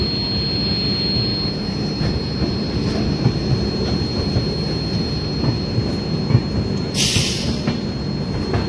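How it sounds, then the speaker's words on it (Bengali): The Sealdah-Ajmer Express pulls out from platform 13 at Sealdah, a loud, steady rumble of rolling wheels and wagon clatter, with rhythmic rail joints and a brief high squeal near the end. "আমাদের শিয়ালদা আজমের এক্সপ্রেস তার 13 নম্বর প্ল্যাটফর্ম থেকে বেরিয়ে গেল"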